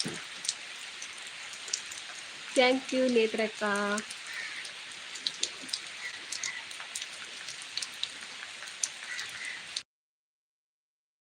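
Steady heavy rain hisses close and continuous, briefly overlaid by a short burst of speech early on, then carries on alone until it cuts off abruptly near the end.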